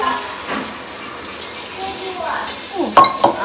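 Boiled dal is tipped into a hot tempering of onion, garlic and panch phoron, a quiet sizzle that gives way to wet splashing and stirring, with a couple of louder sloshing bursts at the end.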